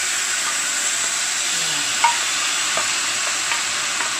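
Sweet cured pork tocino sizzles and crackles steadily in a hot frying pan, a dense continuous hiss with a few sharper pops, close and alone with no talking.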